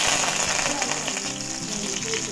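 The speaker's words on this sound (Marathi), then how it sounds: "आता त्यात मी मिरची टाकणार आहे." Green chillies fry in hot oil in a kadhai over a wood-fired chulha, giving a steady, bright, close-up sizzle that crackles without pause.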